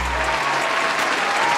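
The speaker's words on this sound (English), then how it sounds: "Quick little round of applause." Listeners give a quick round of applause after a decathlon story, a steady wash of many hands clapping at moderate distance, continuous and even throughout with no talk over it.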